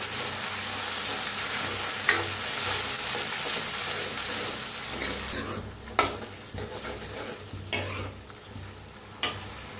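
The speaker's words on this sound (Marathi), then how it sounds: "आता आपण पेस्ट बनवून घेतली होती टमाट्याची, ती ओतूया ह्याच्यात. ती बी हलकीशी भाजायची." Tomato paste poured into a pan of fried onion for sambar, a steady close sizzle and frying hiss with a spoon stirring and several sharp clinks against the pan, no voices.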